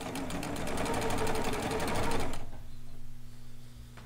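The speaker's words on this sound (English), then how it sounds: "I'm just going to take my time and get this long seam serged down." Serger sewing machine stitching a long seam on kimono fabric, a fast rhythmic mechanical whirr running close and steady for a couple of seconds before stopping, with a faint hum left after.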